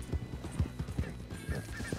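A horse in Red Dead Redemption 2 runs hard outside a town, its hooves beating a quick, even clip-clop rhythm close by, with a short whinny mixed in.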